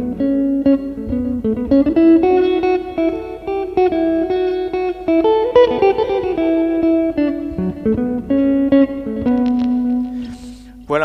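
Electric guitar with a jazz tone played through a Headrush Prime multi-effects unit, a loud, warm, clean melodic solo line with sustained notes and light reverb, heard alone.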